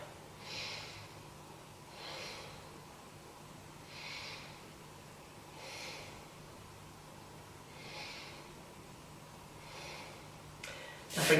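Slow, deep breaths during a yoga pose, faint and steady, with about five soft breath cycles spaced roughly two seconds apart, alone in a quiet room.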